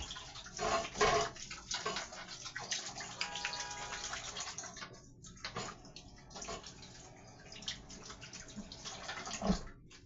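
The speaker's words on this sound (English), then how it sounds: "Wash my hands real quick." Hands are washed under a running tap, a steady close splash of water with brief bursts of rinsing and scrubbing, moderately quiet and without talk.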